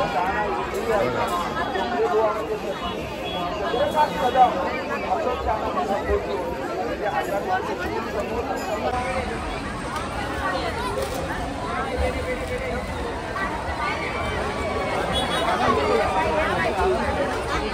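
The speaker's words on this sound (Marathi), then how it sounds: "आज सेकंड लास्ट दिवस आहे, तर खूप गर्दी आहे" Busy crowd chatter at a crowded fair on one of its final days, a steady dense babble of many voices with footsteps and movement, moderately loud and continuous throughout.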